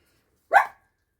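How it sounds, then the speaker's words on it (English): One short, sharp dog bark rings out alone against near silence, moderately close. "I think that's just enough barking for today, Daisy, don't you?"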